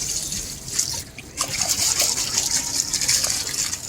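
Water running during cleaning outdoors, a steady hissing gush with a brief dip before resuming, heard up close without talk.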